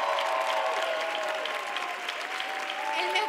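Applause from a studio audience at a televised Christmas Eve music special, a steady dense wash of clapping heard from a distance with a musical tone ringing through it.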